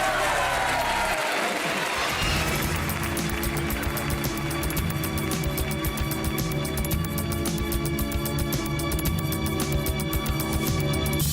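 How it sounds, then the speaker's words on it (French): A studio audience of a French consumer television show applauds loudly for Martine, clapping and cheering in a busy, continuous burst that begins after a brief moment of other sound. "On applaudit très fort Martine."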